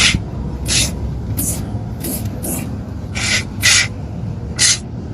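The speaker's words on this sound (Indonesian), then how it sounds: "Nah, ini contohnya saya semprot pakai tangan satu." Cleaner sprayed by hand onto a car engine during a tune-up: about eight short, sharp hissing bursts come at uneven intervals over a steady low background hum, close and fairly loud.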